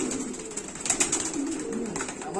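Thailand king pigeons coo softly and repeatedly at close range, their low throaty rolling calls overlapping with faint higher chirps and rustles.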